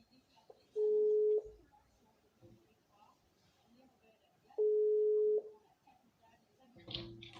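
Phone line dial tones during a call-in broadcast: two steady, loud tone bursts about four seconds apart, with faint talk and room noise between them and a brief click-like burst near the end.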